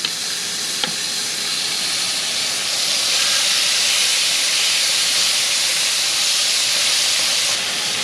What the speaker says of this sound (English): put the shrimp in there.